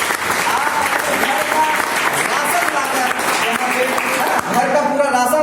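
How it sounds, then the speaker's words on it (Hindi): Loud, dense audience applause at a marketing plan presentation, continuous clapping with crowd murmur mixed in, swelling slightly near the end. "इसके लिए एक जबरदस्त तालियां हो जाए अपने सिस्टम के लिए।"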